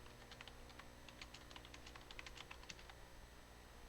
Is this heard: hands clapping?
no